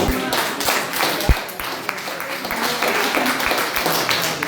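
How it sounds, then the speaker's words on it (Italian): An audience applauds at a book presentation of a Sardinian-Italian contrastive grammar in Nuoro. The clapping is dense and continuous throughout, with a few sharper individual claps standing out. "Io direi un applauso per Mauro."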